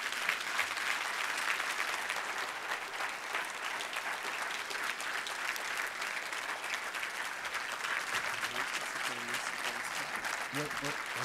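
An audience claps warmly as refugees are invited up onto a stage, a dense sustained wave of applause with faint voices rising near the end.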